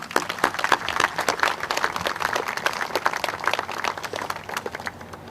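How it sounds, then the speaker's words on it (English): An audience at a community recognition event claps together in a dense, sustained round of applause that stays fairly even for several seconds, with no voices over it. "will you please help me join in giving them all a good round of applause"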